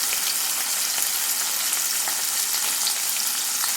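Morola fish frying in hot oil gives a steady, dense sizzle with constant crackling and small pops, close and even throughout, with no voices.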